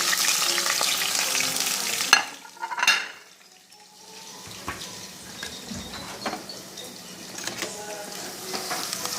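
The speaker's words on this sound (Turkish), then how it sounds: "Yağımızı koyduk tenceremize. Soğanımızı şöyle koyuyoruz." Onions sizzling in hot oil in a pot, with a sharp clatter and stirring noises, then a softer continuous fry.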